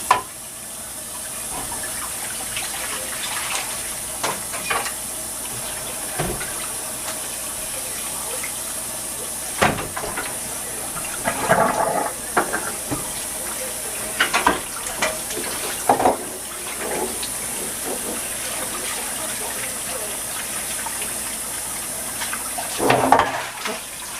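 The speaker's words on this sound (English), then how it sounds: "now I'm going to wash this out because I need it." A kitchen tap runs steadily while a dish is washed out in the sink. The water flows on continuously, with occasional clinks and splashing bursts as the dish is handled. No one speaks.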